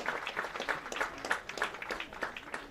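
Crowd applauding at a college football game, Salve Regina versus Husson, a steady wash of scattered clapping heard from a distance, moderately faint and without talk.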